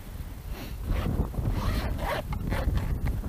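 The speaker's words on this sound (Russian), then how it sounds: "Тоже на замочке." Zipper pulled along the main compartment of a waterproof fabric fishing keepnet bag, a steady rasping drag lasting a few seconds with a slight scrape near the end, close and fairly loud.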